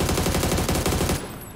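Rapid automatic gunfire in the battle royale game PUBG comes from a neighboring hill, a fast, loud, evenly spaced burst of shots that stops abruptly near the end.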